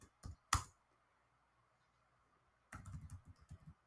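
Keystrokes on a computer keyboard during npm command entry: a few sharp isolated clicks near the start, then a quiet pause, followed by a close, steady burst of rapid typing.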